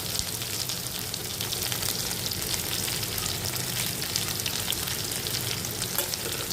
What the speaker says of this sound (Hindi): अब हमने ये जो प्याज है ये बारीक बारीक काट के रखी थी वो भी हम इसके अंदर डाल देंगे।